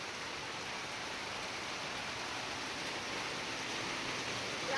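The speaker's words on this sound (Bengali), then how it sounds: "পরিমাণে বৃষ্টি দেখেন।" Heavy rain pours down steadily outside a house, wetting a parked car, as a constant, dense hiss with no break and no voices.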